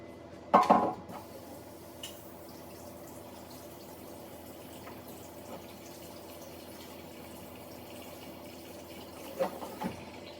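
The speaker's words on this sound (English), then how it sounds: "Gonna go ahead and rinse this cooking board off." Water runs steadily from a tap rinsing a cutting board used for raw chicken, with a clatter of the board at the start and a few knocks near the end.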